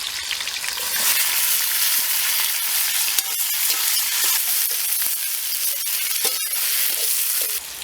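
Cinnamon, cloves, green chili and onion frying in oil for a village-style pepper chicken, with a dense, bright sizzle close by and occasional crackles and stirring scrapes throughout.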